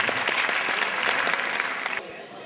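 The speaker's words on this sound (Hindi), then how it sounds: "आप लोग थोड़ी देर तालियों से इस्तकबाल करें" Audience at a Saharanpur mushaira claps to welcome a poet, a brief, dense burst of close applause that cuts off abruptly near the end.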